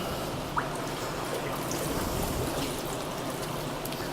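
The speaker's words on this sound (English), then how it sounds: "Use a PVC plastic to stir the whole thing up, to mix it up properly." Enzyme nutrient mix being stirred into about 250 liters of water with a PVC plastic stick, a steady close sloshing and trickling of liquid throughout with no talk.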